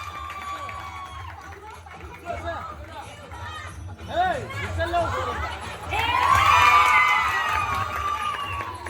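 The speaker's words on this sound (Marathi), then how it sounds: "टाळ्या झाल्या पाहिजे जोरदार टाळ्या झाल्या पाहिजे" Lively crowd at a village Home Minister Paithani game show during Navratri cheering and shouting, building louder toward the end, with children's shouts and chatter mixed through the noise.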